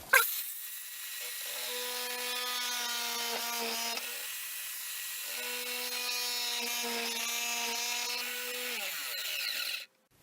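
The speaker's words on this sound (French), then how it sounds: "On va de nouveau utiliser la scie sauteuse pour découper ça" A jigsaw buzzes loudly through wood in two long cuts separated by a brief pause, cutting parts for a cane stand, its whine steady before stopping abruptly.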